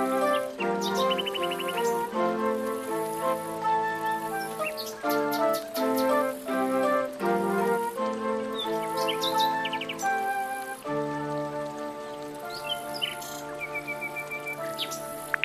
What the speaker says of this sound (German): Vogelgezwitscher musiziert durch den dichten, stillen, grünen Wald.